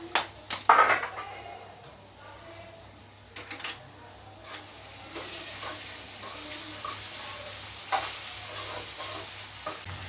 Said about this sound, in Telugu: బీట్రూట్ ఫ్రై అయితే మంచి ఫ్రై అవుతుంది